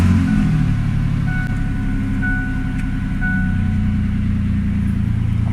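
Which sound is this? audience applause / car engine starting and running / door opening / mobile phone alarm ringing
car engine starting and running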